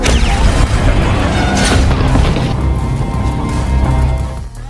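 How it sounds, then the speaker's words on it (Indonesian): A deliberately blown-up oil tanker ship erupts in a loud, sustained blast, a dense roaring rumble with crashing debris that stays strong for several seconds before easing off, with no voices. "Robert dengan sengaja meledakkan kapal tersebut."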